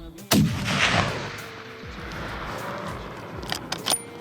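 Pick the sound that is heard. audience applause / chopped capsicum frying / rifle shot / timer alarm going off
rifle shot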